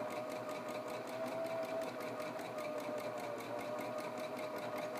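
A sewing machine hums quietly and steadily while stitching a hemmed, folded fabric edge, including back stitching. It runs continuously, close by, with no voices.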